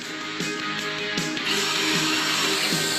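A power drill bores into a sewer lid to mount brackets for a remote sewer early-warning system, a loud, close motor whine with pitch dips as the bit bites, running continuously.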